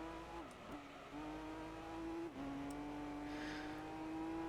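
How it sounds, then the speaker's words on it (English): Race cars in Gran Turismo 3: A-spec, a faint steady engine drone with a sustained tone that dips twice as gears shift, then climbs again under acceleration. "It's mainly just my voice along with the sound of cars going by."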